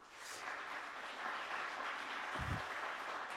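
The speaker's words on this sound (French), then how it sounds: "que je vous demande d'applaudir" Faint, distant audience applause at a French business talk, welcoming Pierre Touzet, CRM and mobile lead, a steady soft wash of clapping with a brief low thump partway through.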